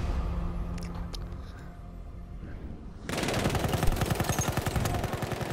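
Rapid automatic gunfire in Battlefield 1, a dense, loud, steady stream of shots that bursts in abruptly after a few seconds of quieter rumbling ambience and lasts to the end.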